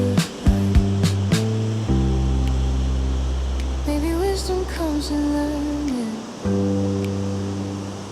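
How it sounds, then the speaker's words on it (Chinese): Steady rushing water from the upper stretch of Gullfoss waterfall in winter in Iceland roars broadly throughout, with a loud low hum and tonal bands layered on top that come and go. "是瀑布的上游，"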